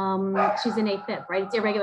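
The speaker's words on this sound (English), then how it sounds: "And I just apologize for my dog." A dog barks indoors, a short yelping bark at the start followed by whimpering tones blended into a person talking close by.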